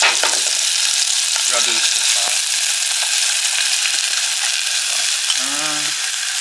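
Sauce sizzles loudly and continuously in extra virgin avocado oil in a pan, close up and dense, while someone speaks briefly over the frying.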